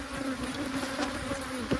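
Honeybees swarm back into a hive box after it is swapped out at an abandoned hive, a dense, steady buzzing drone close by with individual bees zipping past.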